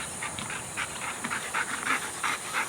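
Dog panting close by in quick rhythmic breathy bursts, fairly quiet against a faint steady hiss, with no talking.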